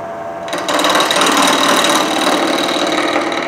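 A multi-axis machine cuts a canteen with a loud, dense, steady mechanical whir and buzz that starts after a quieter half second and holds unbroken, close up, with no talking.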